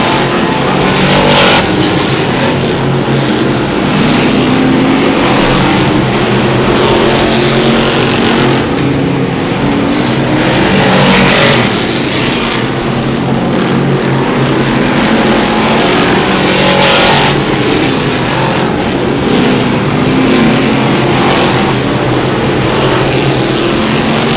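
Crate sportsman modified race cars roar around a race track at a 2012 event, their engines a loud, continuous drone that swells and fades as cars pass close by.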